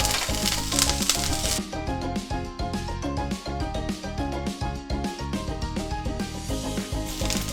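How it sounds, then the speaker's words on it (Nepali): Timur and ginger-garlic paste hitting hot oil for a Nepali chicken choila, a loud hiss at first that settles into a steady crackling sizzle with scattered pops and stirring scrapes. "अब चाहिँ म यो अघि रहेको तेलमा थोरै टिमुर राख्न गइरहेछु र यसमा म अदुवा लसुनको पेस्ट पनि राख्न गइरहेछु।"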